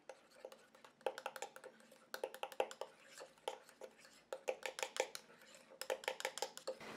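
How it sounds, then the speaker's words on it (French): Homemade day cream stirred in a bowl, a run of light, rapid clinks and scrapes in irregular bursts, quiet and close, with short pauses between. "Je viens mélanger."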